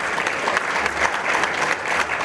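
A dense wash of applause from the audience at a Haitian church gala for the 85th anniversary of the Church of God, sustained and even with no pauses.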